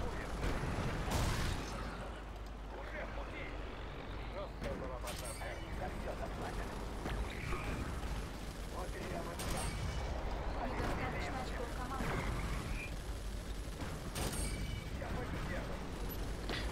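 Explosions and gunfire from the Command & Conquer 4: Tiberian Twilight strategy game form a dense, continuous battle din, with repeated sharp bursts and booms over game sounds, while a player talks over it.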